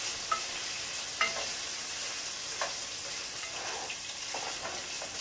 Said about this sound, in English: Get my onion to be nice and brown, a little golden brown